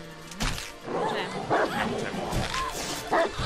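A dog in the survival game Die Young barks and yelps in several sharp bursts spread across the moment, mixed with whimpering cries, with a person talking underneath.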